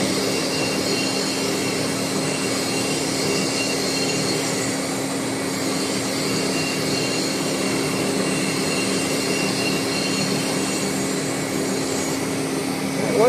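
A lathe cutting tool machines metal on a Volvo axle during a repair-sleeve job, giving a steady, continuous whirring hum with a faint tonal whine throughout and no clear breaks.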